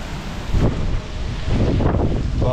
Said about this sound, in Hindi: सुबह से इतनी तेज आवाजें, इतनी तेज हवा चल रही है ना